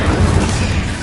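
A dense roaring whoosh of fire from the Incendio spell in Hogwarts Legacy, a loud, close burst of flame that stays full and steady for about a second.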